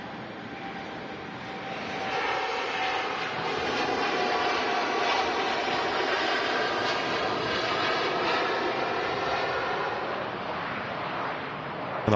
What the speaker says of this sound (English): And off goes that TUI Dreamliner to Melbourne in Florida.